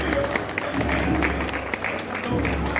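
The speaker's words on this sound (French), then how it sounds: "On peut applaudir Enrique." Applause from a convention audience for a guest on stage, a mix of clapping hands with a low rumble and some voices mixed in, moderately loud and continuous.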